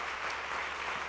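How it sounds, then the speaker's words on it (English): Crowd at a school graduation ceremony giving graduates a dense, continuous round of applause, a brief steady burst of many hands clapping. "let's give them another round of applause for what they have done"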